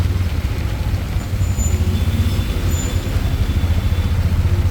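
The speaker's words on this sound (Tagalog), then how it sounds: "nagkaroon ng traffic dahil sa lumikong sasakyan" Road traffic on a rainy Philippine provincial route, a steady loud low rumble of vehicle engines passing close by, continuous with no clear breaks and no speech.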